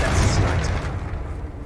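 A Confringo fire spell explodes in the Hogwarts Legacy game, a dense low boom and rumble that fades away over under two seconds, loud and close.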